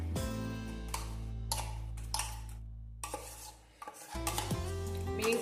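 Ground curry paste for a Kerala-style mango curry is scraped into a clay pot, with a few clinks and knocks of a utensil against the pot and soft scraping over a steady low hum.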